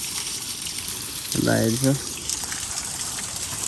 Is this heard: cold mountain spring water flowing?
yes